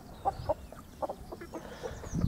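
A hen clucks several times in short, spaced bursts nearby in a garden among asparagus and raspberry canes, with soft background noise and a louder rustle at the end.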